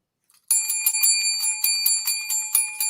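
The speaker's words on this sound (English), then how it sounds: "please ring that bell" A small bell is rung rapidly and repeatedly, a bright metallic trill of quick strikes with a sustained ringing tone, starting after a brief faint tap and continuing close and loud, no talk.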